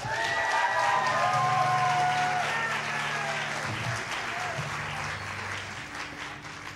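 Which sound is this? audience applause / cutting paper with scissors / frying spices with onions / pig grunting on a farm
audience applause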